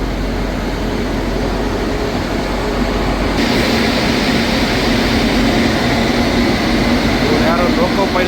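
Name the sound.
Wodeyar Express train locomotive engine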